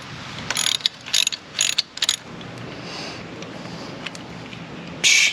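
A ratchet works the foot peg bolt on a Honda XR150L motorcycle, a series of short, close clicking bursts in quick succession, then a pause and one final burst.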